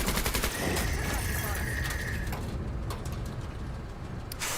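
Dense, loud machine gun fire in the strategy video game Menace, a continuous rapid rattle of shots with a brief whistling tone partway through.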